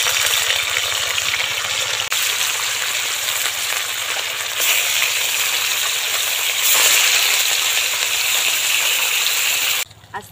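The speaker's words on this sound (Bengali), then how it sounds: "এবার এক এক করে মাছের পিসগুলো দিয়ে দেবো তেলের মধ্যে" Rohu fish pieces dropped one by one into hot oil in a kadai, giving a loud, continuous close sizzle that surges as each piece goes in, then cuts off abruptly near the end.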